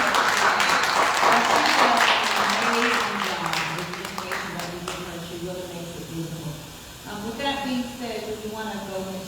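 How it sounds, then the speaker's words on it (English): An audience at a talk breaks into applause that is loud at first and gradually thins out, then fades under a person speaking. "Can we give Crystal another round of applause"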